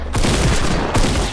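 Gunfire in the video game Fortnite, a loud close burst of rapid overlapping shots with a second flurry near the end, filling the short moment with harsh broadband blasts.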